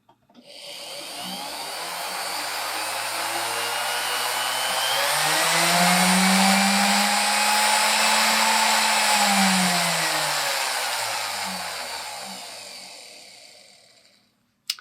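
A MicroLux flex shaft machine spins up from rest, its motor whine rising in pitch to a steady high-speed hum, then winding down and stopping; close, loud and alone.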